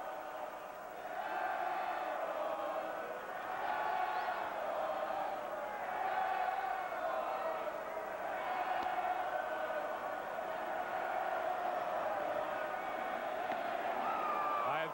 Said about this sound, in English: That's what this crowd was chanting with Giambi at the plate